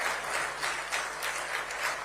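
An audience at an award ceremony applauds steadily, a dense wash of clapping with soft swells and no talking over it.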